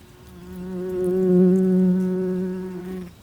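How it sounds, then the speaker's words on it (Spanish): A bee flies in toward a flower, its steady droning buzz swelling as it nears, holding close and loud, then tapering off over about three seconds with no other sounds. "Una abeja, quizás una de las antiguas habitantes de la colmena destruida por los avispones gigantes asiáticos, atraída por la promesa de polen, se acerca volando."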